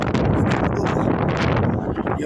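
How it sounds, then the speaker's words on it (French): Strong wind buffets an outdoor microphone on New Year's, a loud, constant roar with gusty swells throughout. "Il y a un vent putain terrible qui souffle"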